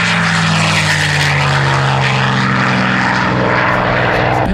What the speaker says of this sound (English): On the takeoff roll right now, going to orbit, waiting for his turn, is the airplane that won the war for us in Europe,